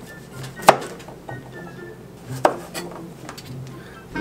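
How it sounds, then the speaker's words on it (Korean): A knife strikes a cutting board twice while cutting a carrot into cubes, two sharp, close taps about two seconds apart over quiet kitchen background. "당근을 썰어 볼게요."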